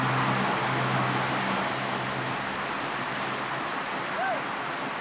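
Amphitheatre Falls, a forest waterfall in Australia, pours a steady, full roar of rushing water close by, constant and unbroken, with a low rumble underneath and a faint high whistle-like sound near the end.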